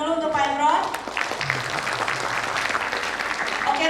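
An audience at a university energy talk at Universitas Negeri Malang applauds Pak Imron: dense clapping that runs throughout, with a speaker's voice heard over it at the start and end.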